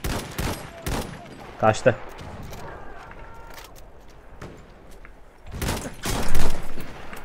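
Gunfire in Battlefield 1, bursts of rifle and machine-gun shots, close and loud, in clusters at the start and again near the end, with someone talking between them.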